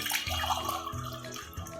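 Water poured into a medium-thickness pressure cooker, a steady splashing pour with brief gurgles as the level rises, close and continuous.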